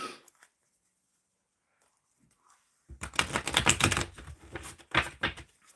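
Tarot cards being shuffled make a quick, close riffling patter after a few seconds of near silence, continuing briskly to the end with no talking.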